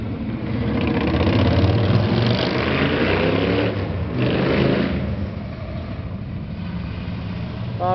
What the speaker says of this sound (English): A lot of bikes are out today.